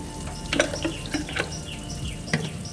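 Raw mango pieces hit hot oil in a home kitchen pan with salt and turmeric being added, producing a steady close sizzle with several sharp bursts of spitting and stirring clatter.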